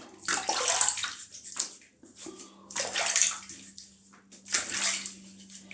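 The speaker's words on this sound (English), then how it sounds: "So a bit of a rinse off" Face being rinsed off with water during a shave, three distinct splashing bursts spaced a couple of seconds apart over a faint low hum, close by with no speech.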